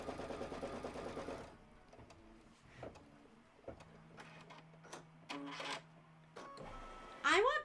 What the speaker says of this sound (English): This is the order in which they loaded, so it's stitching this one next.